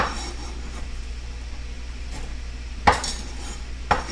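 Food tossed into a cooking pan while making a pepper pork and grits meal, giving two sharp metallic clanks about a second apart over a quiet background hum.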